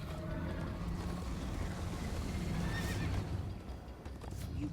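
A horse in the game Minecraft: Story Mode neighs loudly and shrilly over a steady patter of galloping hooves, close and continuous throughout, with no talking.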